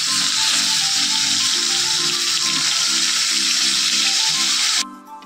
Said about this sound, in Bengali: অল্প করে তেল দিয়েই পটলগুলোকে ভেজে নেব।